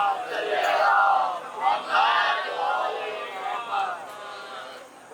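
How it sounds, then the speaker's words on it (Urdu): A crowd at a religious gathering chants salawat loudly in unison, several swelling collective phrases rising and falling over a few seconds, with voices blended into a roar. "بار دیگر عظمت شہزادی معصومہ ام کے اوپر بلند ترین نعرے صلوات ارشاد"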